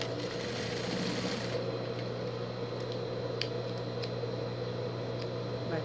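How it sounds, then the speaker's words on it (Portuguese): Sewing machine backstitching firmly back and forth in an X pattern to secure a strap on a small pet carrier bag, a continuous close motor hum with occasional sharp clicks. "Com um retrocesso bem forte, venho fazendo um X, outro retrocesso bem forte também, e venho fazendo um X."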